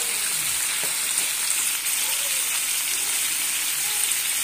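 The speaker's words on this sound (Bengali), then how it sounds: "নুন হলুদ দিয়ে ডিমটা সুন্দর করে একটু লাল লাল করে ভেজে নেব।" Ten eggs seasoned with salt and turmeric fry in hot oil for an egg and potato biryani, giving a steady, close sizzling hiss that continues without pause.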